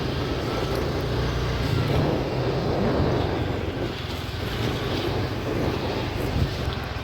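A car driving fast along an open road, a steady roar of engine, tyres and rushing wind that fills the whole stretch without a break.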